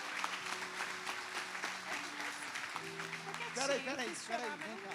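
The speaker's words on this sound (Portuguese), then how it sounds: "Você pode aplaudir o Senhor?" Church congregation clapping at a worship service, moderate applause mixed with voices and sustained tones, swelling toward the end as people call out.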